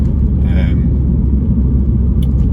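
A deep, steady engine and exhaust rumble from a 2016 Mini John Cooper Works (F56), close and continuous, with no break throughout.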